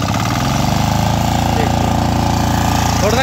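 The engine of a Kirloskar 28-inch power weeder runs close and loud, with a steady rapid chugging throb that continues through the whole stretch.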